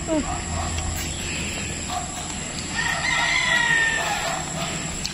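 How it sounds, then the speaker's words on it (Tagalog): A rooster crows in the distance over steady outdoor background noise, with some faint voices nearby. "Natalaok na."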